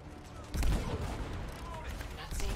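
A sniper rifle fires in the game Anthem: one heavy, booming shot cracks out and rumbles on under other game noise.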